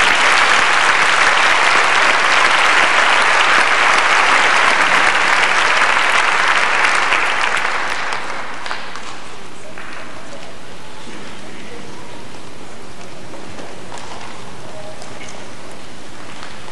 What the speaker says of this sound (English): How about another round of applause, ladies and gentlemen, for these wonderful teachers this afternoon?